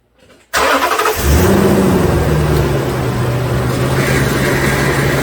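A 2008 Toyota Tundra engine cranks and fires after a brief moment of near silence, then settles into a steady, loud idle with a rising whine and a fan-like hiss close by.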